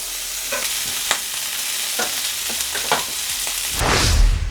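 A birria taco sizzles steadily on a hot griddle with intermittent scrapes and taps of a spatula, then a louder, fuller hiss swells near the end as it is flipped; no talking.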